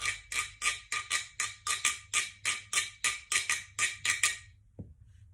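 A wooden stick scrapes rapidly back and forth across a guiro, producing a steady series of raspy, ratcheting strokes up close before stopping.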